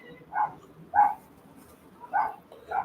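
Dogs bark in four separate bursts, each short and moderately loud, set a little apart, with quiet gaps between them and no talking.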